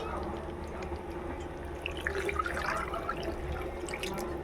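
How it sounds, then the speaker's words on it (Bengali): Hot water is poured into a pan of potatoes cooked with spices for a vegetarian aloo dum, a steady watery rush that swells briefly midway over a low kitchen background hum. "আমি কিন্তু পুরো গরম জল দিলাম"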